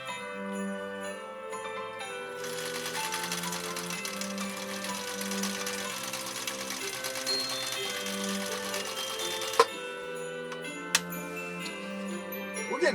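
A 1961 Viking Husqvarna 19E zigzag sewing machine runs at a steady, rapid stitching rhythm with a metallic whir and tick that holds for several seconds and is framed by quieter ticking at the start and end.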